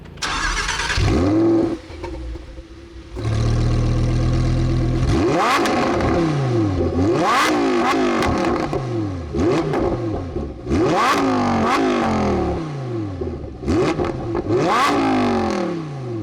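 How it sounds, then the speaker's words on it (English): A Lamborghini Huracan Sterrato's naturally aspirated V10 starts and then revs repeatedly in sharp bursts, the pitch climbing and falling with each blip, loud and close, no talking. "a naturally aspirated V10, as you might expect, sounds pretty good. Take a listen to this car, a few revs."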